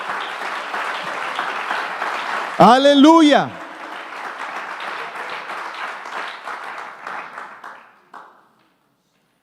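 A church congregation at a Sunday service applauds with dense, steady clapping, broken by a loud sung or shouted exclamation from one voice, then the clapping carries on and fades out before silence.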